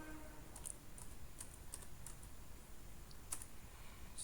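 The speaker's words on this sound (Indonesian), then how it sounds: "Di sini kita bisa ketik saja if config." Someone typing a short terminal command on a computer keyboard, a quick sparse run of light key clicks at uneven spacing, quiet and close with no talking.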